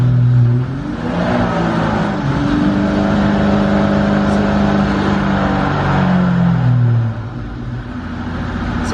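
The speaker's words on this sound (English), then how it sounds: "so in first gear, the wheels are spinning" A drift car with a dual caliper hydraulic handbrake runs in first gear with its wheels spinning, a loud, close engine drone that holds steady, dips briefly, then climbs again.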